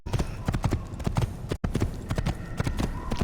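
Hooves of a black horse galloping in a video game, a fast steady clip-clop that runs almost the whole time, broken by one brief dropout midway, with faint background talk.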